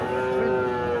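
At a cattle market in Chougachha, Jessore, a cow or bull gives a sustained, low, droning moo that lasts the whole short moment, close and fairly loud over faint background noise.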